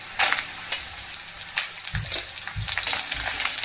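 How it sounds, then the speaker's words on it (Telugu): Dried red chillies frying in oil in a pan while making ginger chutney, giving a steady close sizzle and crackle with a few sharper pops and stirring scrapes, with no talking. "ఇలా కొంచెం వేగించిన తర్వాత ఎండుమిరపకాయలు వేసుకోవాలండి."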